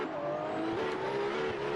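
A Nissan S15 drift car in black and yellow livery holds a sustained, loud engine wail through a drifting run at a drift event, its pitch rising slightly as the tires scrub underneath.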